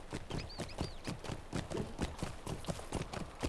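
Horse hooves clip-clop steadily on the ground in the video game Lord of the Rings Online. The hoofbeats fall in a regular trotting rhythm, fairly close, with faint high game chimes above them and no talking.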